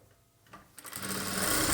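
Sewing machine stitching a plain blouse: a few soft clicks, then the motor winds up into a loud, fast, continuous whirr of stitching.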